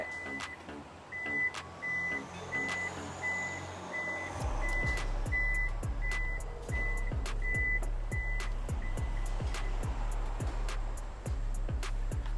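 A Toyota Innova 2.0 hybrid's power tailgate gives a steady series of evenly spaced warning beeps, loud and close, while a low mechanical hum rises partway through and continues beneath the beeping.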